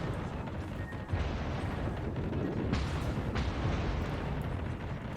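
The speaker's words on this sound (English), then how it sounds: "they are shooting me left, right and center" Naval guns in World of Warships boom again and again around an IJN Harugumo gunboat, heavy deep blasts and rumbling shell impacts blending into a continuous barrage.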